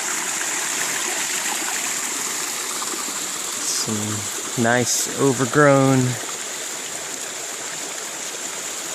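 Steady rushing water from small moss-overgrown waterfalls along the trail to Eagle Creek and Tunnel Falls, a continuous hiss beneath a man's nearby speech.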